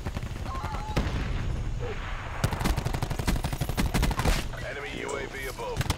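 Rapid gunfire from automatic weapons in the Call of Duty map Nuketown, dense overlapping bursts of shots running throughout, loud and close, mixed with game effects and faint voices.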